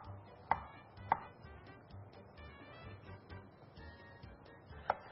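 A knife cutting peeled starfruit into thin rounds, with three distinct sharp taps of the blade on a cutting board, spaced unevenly, quiet and close, with no talking.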